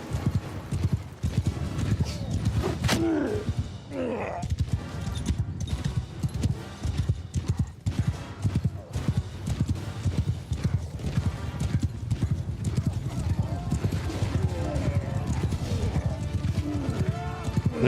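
Horses gallop in the Old Realms video game, a steady clip-clop of hooves with occasional whinnies running throughout, mixed with game effects and someone talking over it.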